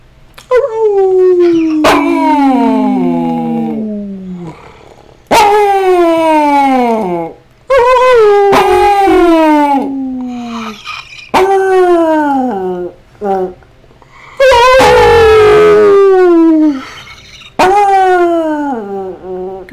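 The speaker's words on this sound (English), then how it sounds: "Can you show the pack your howl?" A dog howls on request in long, sliding, drawn-out wails, five or six in a row with short gaps between, very loud and close, mixed with yips and whimpers.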